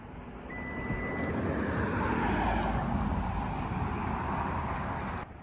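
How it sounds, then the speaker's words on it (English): A Toyota Highlander's power trunk opening by key fob, a steady low electric motor hum with a faint beep near the start, running several seconds before stopping with a soft thud. "we can either open the trunk with this, or just hit it with the key fob right there"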